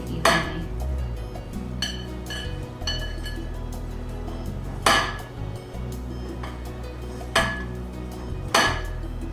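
Battered onion tossed in breading in a wide bowl for a bloomin' onion, with repeated clunks and clinks against the bowl at irregular intervals over a low background hum.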